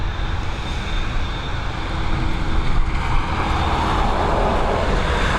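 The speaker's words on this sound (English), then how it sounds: "It's a 787-9 series Dreamliner." A Boeing 787-9 Dreamliner airliner bound for Dallas Fort Worth roars at Dublin Airport from runway 10R, a broad, steady jet rumble that swells slightly toward the end, heard alone without voices.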